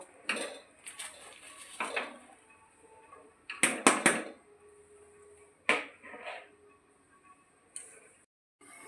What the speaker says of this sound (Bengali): কেটে ধুয়ে রাখা মূলো শাকগুলো এবার দিয়ে দেব